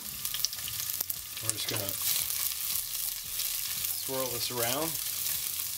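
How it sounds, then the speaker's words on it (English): Hot oil sizzles and crackles steadily as garlic fries in a hot pot for artichoke barigoule, with someone speaking briefly over the frying. "our garlic is sizzling"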